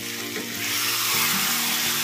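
Chicken curry with tomato pieces fries and is stirred in a pan, giving a dense, loud sizzle that swells midway, with scraping stir sounds and a low background hum.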